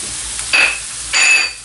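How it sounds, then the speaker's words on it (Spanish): Chopped garlic cloves hit a pan of onion cooking for rabbit shoulders in beer, giving a steady close hiss of frying with two brief louder bursts of sizzle as they are stirred in. No one speaks. "ahora es cuando le echamos los dientes de ajo cortados"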